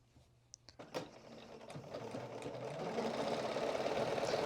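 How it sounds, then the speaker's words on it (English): A sewing machine sews a seam on a Cashmerette Hartwell vest with black thread: a few clicks and taps, then a steady, close mechanical whir that grows louder and more even as it runs. "my machine does do a locking stitch at the beginning and end of my stitch automatically"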